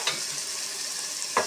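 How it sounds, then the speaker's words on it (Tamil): Chopped tomato and onion sauté in a hot pan for a potato egg fry, a steady close sizzle with a couple of brief stirring scrapes at the start and end. "கட் பண்ண தக்காளி எடுத்து இதில் போட்டு வதக்குங்க"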